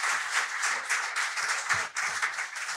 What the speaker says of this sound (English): Round of applause for all of our contestants